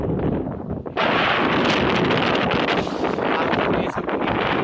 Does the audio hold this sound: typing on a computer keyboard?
no